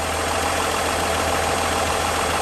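A 1961 AMC Rambler American with a one-barrel Holley carburetor idles steadily at close range, a continuous even engine drone with a low rumble and no voices over it.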